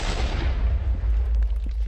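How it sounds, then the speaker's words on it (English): A deep booming explosion from a falling bomb in a modded Minecraft nuclear weapons showcase, a heavy low rumble that starts loud and rolls on for about two seconds, with no talk. "It comes down and it creates an explosion."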